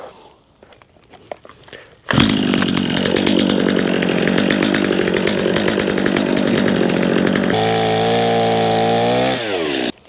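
A chainsaw roars to life after some quiet handling noises, cutting loudly through willow wood, then its pitch shifts to a steady high idle before cutting off.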